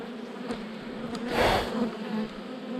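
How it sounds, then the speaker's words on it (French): Honeybees buzz steadily in a dense, close hum around the hive, swelling briefly louder as a few pass nearby. "avec toutes ces abeilles agglutinées dessus là qui tiennent chaud"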